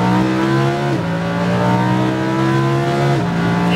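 Lamborghini Huracan engine at full throttle, loud and close, a sustained high-pitched roar that climbs through the revs with two quick gear shifts breaking the tone.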